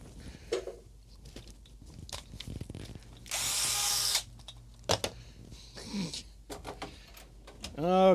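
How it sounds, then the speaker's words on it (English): A power drill whirs in a short burst of about a second, amid scattered knocks, handling noises and faint speech. "Let's drill some new holes."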